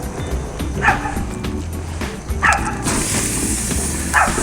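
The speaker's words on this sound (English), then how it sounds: "We got the dogs barking in the background." A dog barks a few times in the background, short yips spaced a second or two apart over a steady low hum, outdoors near a grill.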